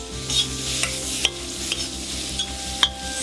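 Beef pieces sear on a wide saç pan with a steady close sizzle, broken by a few sharp scrapes and clinks of stirring, no voices.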